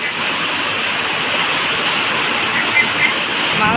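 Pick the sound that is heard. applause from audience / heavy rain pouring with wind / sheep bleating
heavy rain pouring with wind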